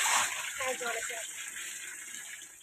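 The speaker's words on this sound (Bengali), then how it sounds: "এই জলটা গরম বেরোয়।" Water gushes steadily from a tap that runs hot during household cleaning on a rainy morning, a broad continuous rush that stays fairly loud throughout, with a voice speaking briefly over it early on.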